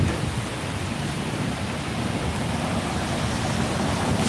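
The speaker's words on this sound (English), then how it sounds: "in the rain as you see." Steady rain falls outdoors during a street protest near the Brooklyn Navy Yard, producing a dense, even hiss that stays constant and fairly loud throughout with no voices.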